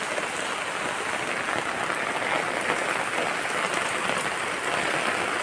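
Heavy rain pours in the dark early morning, a steady, dense hiss that stays loud and even throughout with no voices.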